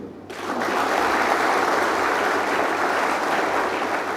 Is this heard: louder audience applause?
yes